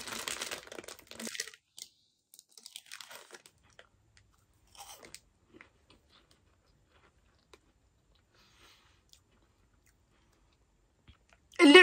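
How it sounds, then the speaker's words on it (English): Crispy mochi snack from a Japanese snack box crunches in the mouth, a burst of close, dry crunching and chewing at the start, then scattered faint bites and near silence. "Time for some crispy mochi."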